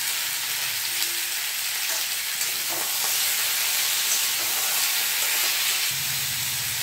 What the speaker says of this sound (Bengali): শিমটা আমার ভাজা হয়ে গেছে।